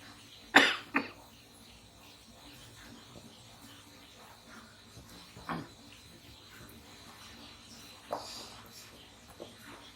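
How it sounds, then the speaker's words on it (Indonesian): Someone coughs sharply twice near the start, then gives softer single coughs later, each short and close against a quiet room. "baru batuk ya"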